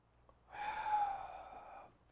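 Deep inhalation during a martial arts breathing exercise, one long drawn breath lasting over a second, close and fairly soft, with no talk over it.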